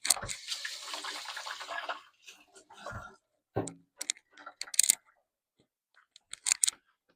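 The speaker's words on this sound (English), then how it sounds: "Wash my hands." Hands washed under a running kitchen tap while cooking, a short hissing stream of water for about two seconds followed by scattered splashes, clicks and handling noises.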